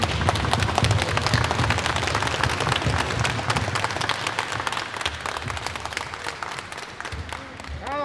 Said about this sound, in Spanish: hoy soy yo la que les da el aplauso a ustedes